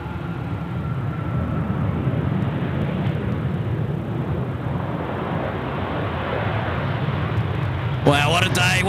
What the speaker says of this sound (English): The A380 just ripping it through now.